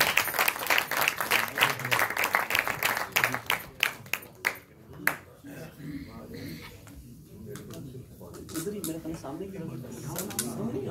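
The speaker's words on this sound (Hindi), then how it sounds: "आप तमाम हजरात की भरपूर तालियों में" Audience applause at a book launch during an Urdu literary gathering at SOAS London: a burst of clapping that fades after about five seconds into room murmur and scattered claps, with talk over the tail.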